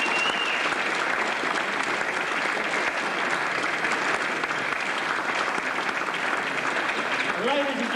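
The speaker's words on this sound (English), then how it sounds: "give a very big round of applause for an unlucky loser, fine boy, Leon Fortuna" Steady, dense applause from a boxing crowd as Tongan boxer Leon Fortuna leaves the ring, continuous clapping filling the hall for the whole stretch with a faint voice near the end.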